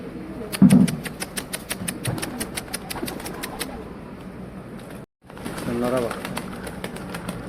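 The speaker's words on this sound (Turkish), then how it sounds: "Çatıda bir sürü kuş var." Many birds on a roof, likely pigeons, with a rapid run of flapping clicks and soft cooing under murmured voices, then a brief cut before the fluttering resumes.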